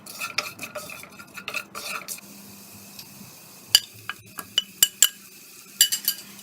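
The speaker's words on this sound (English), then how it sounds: "Now we will add in the onions. Fry it until golden brown." Onions frying in a pan for egg curry, heard as stirring scrapes and a low sizzle, then a run of sharp utensil taps and clinks against the pan.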